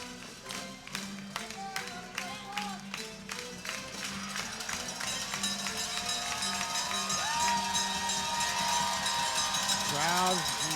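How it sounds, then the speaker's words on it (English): Fans at Skylands Stadium during a Quebec Capitales vs Sussex County Miners championship baseball game make noise with rhythmic banging, cowbell-like clanks and cheering that swell over time, with a broadcaster's voice talking over the crowd. "Crowd making some noise here at Skylands Stadium"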